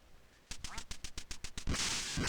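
A duck in the video game Duck Hunt quacks in a rapid run of about nine short, evenly spaced quacks, ending in a louder, brighter burst of game sound.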